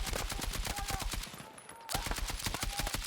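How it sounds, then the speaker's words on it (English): Rapid bursts of light machine gun fire in Battlefield 6, loud and close with a brief pause midway before the sustained shooting resumes. "I'm just single tapping this LMG"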